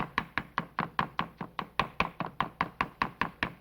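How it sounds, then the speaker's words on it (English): A sharp knife chops tomato on a board in quick, even strokes, about four per second, each a crisp close tap that cuts through the pulp, heard alone with no talking. "You want to be sure that you're chopping the pulp and not mashing it."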